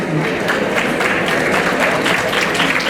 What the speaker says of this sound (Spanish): Tiene que ser muy fuerte el aplauso